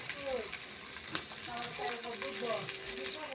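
Fish fry in a pan for a dry-fried dish, giving a continuous close sizzle and crackle with faint stirring and occasional light scraping throughout.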